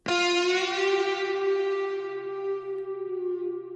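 A single sustained guitar-like melody note made in FL Studio with EQ and reverb, struck cleanly and ringing out with a long smooth decay, alone and moderately loud.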